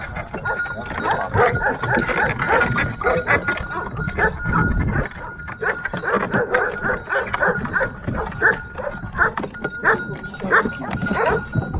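Shepherd dogs at a Romanian mountain sheepfold bark, yip and whine nearby in quick, overlapping bursts that run continuously for the whole stretch.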